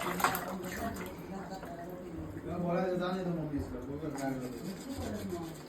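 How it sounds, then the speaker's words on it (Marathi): A baby girl brushes her teeth, with a continuous soft rubbing and scrubbing close by. An adult talks over it throughout. "अरे वा किती छान दात घासते"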